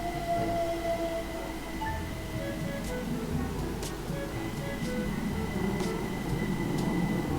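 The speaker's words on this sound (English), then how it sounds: "So I'm here driving trains, having fun." A train in the Train Sim World video game runs steadily with a constant rolling rumble and a sustained electric hum, with a few faint clicks over the track noise and no voices.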